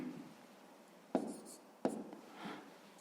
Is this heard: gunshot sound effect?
no